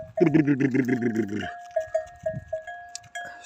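A young goat kid, rejected by its mother and hungry for milk, lets out one long, loud, quavering bleat close by in a village yard, followed by a run of short, evenly spaced tonal calls.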